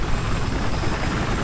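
A steady, dense helicopter rotor drone in the video game Battlefield 4 fills the clip, loud and continuous with a low chopping rumble throughout.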